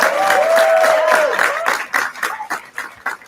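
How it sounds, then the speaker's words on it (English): A graduation crowd claps and cheers for standing international graduates. The applause sounds dense and close at first, with a sustained whoop above it, then thins into scattered claps. "give them a round of applause"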